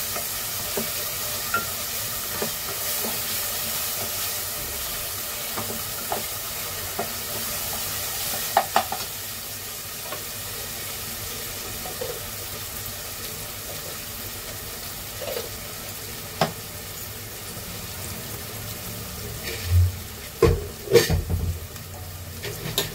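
Mutton and onions cooking in a pot, a low steady simmer and sizzle with occasional stirring scrapes and clinks, louder knocks near the end.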